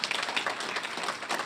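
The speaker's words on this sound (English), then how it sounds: "Give them another round of applause." Audience at a housing commission symposium for minority and women owned contractors giving a round of applause, a short, moderately quiet burst of mixed clapping.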